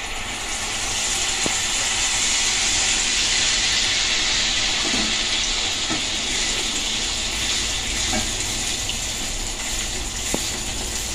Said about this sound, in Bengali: মালপোয়াগুলো ভেজে নেব। তেলটা গরম হয়ে গেছে।